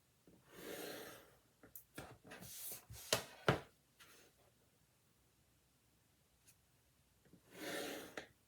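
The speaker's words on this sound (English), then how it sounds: "with my pencil, connect the lines" A pencil draws lines along a ruler on paper in several scratchy strokes, a few louder scrapes and taps in between, close and quiet with no talking.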